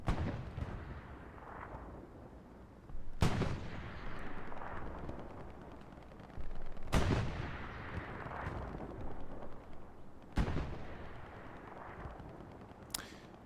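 Heavy gunfire and explosive blasts in the World War II shooter Hell Let Loose on the Omaha map, with four sharp booming shots spaced a few seconds apart over a steady rumbling battlefield din.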